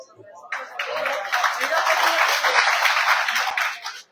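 A crowd at a political election rally speech in Uttar Pradesh bursts into sustained applause, dense clapping that starts abruptly, holds steady for a few seconds, then cuts off.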